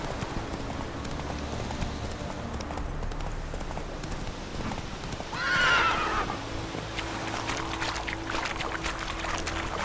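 Horse hooves clip-clop at a gallop in The Witcher 3, steady and close, with a brief horse whinny partway through and a faint background ambience.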